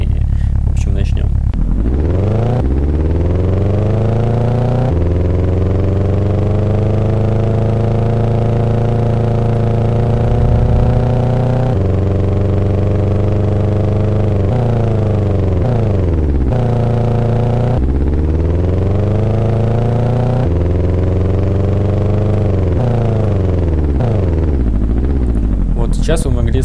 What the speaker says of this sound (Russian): Сейчас вы могли слышать, как работает машина, точнее, как воспроизводятся звуки без настройки, то есть на стоковой машине.